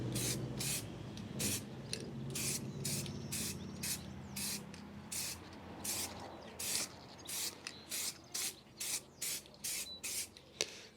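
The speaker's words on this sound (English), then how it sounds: "Just going to give it a quick spray." Aerosol spray paint can hissing out a light first coat onto an alloy wheel during a cheap refurb, in a steady series of short bursts, close and fairly loud, with no talking.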